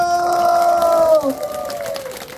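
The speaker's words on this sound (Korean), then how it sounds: "우리 연무동 상인회에서 박수 한번 주세요" A crowd at a Yeonmu-dong merchants' association gathering responds with a sustained, ringing shout of cheering that falls away after about a second, leaving faint crowd noise and scattered claps.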